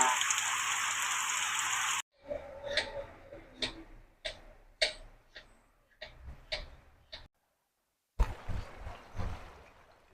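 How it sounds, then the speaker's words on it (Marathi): A dense, loud hiss of heavy monsoon rain in Konkan pours down, then gives way to scattered sharp drips and ticks, before the downpour roars back in. "मुसळधार पाऊस पडतोय कोकणामध्ये"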